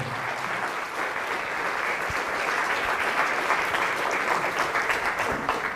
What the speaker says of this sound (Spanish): Fuerte aplauso a la palabra de Dios.